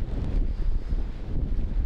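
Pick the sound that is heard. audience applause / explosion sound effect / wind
wind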